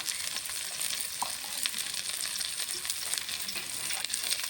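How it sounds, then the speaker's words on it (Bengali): Spices sizzle and crackle in hot oil for a tilapia curry, a soft steady frying hiss with small pops and occasional stirring, no voices. "মশলাটা ছেড়ে দেবো, মশলাটা ভালো করে কষিয়ে নেব।"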